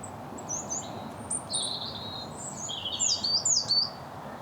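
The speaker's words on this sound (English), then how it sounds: "there is so much bird song around here" Several birds sing and chirp outdoors in the UK during summer, with bright warbling phrases rising and falling over a steady background of ambient noise, no talking.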